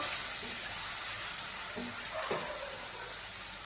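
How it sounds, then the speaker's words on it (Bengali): Cut potatoes fry in a spice paste for an egg and potato curry, giving a steady close sizzle that runs the whole time, with a few soft stirring scrapes and no voices. "আমি যে আলুগুলো কেটে রেখেছিলাম সেগুলো দিয়ে দিচ্ছি। একটু কষিয়ে নিচ্ছি।"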